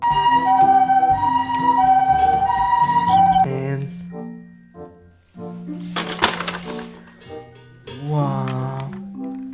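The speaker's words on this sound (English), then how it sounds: "Police ambulance." A toy police ambulance plays an electronic siren with a steady wailing tone, loud and close, followed by shorter electronic jingles and clicks from the toy.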